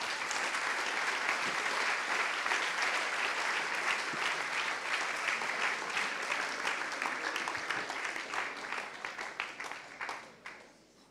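A French audience applauds Minister F. Vidal with sustained, dense clapping that holds steady for several seconds, then thins into scattered claps and fades out.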